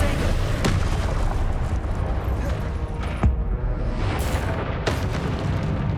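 Repeated fiery Confringo spell blasts in the video game Hogwarts Legacy, booming bursts at intervals over a dense, loud battle din of rumbling impacts and effects.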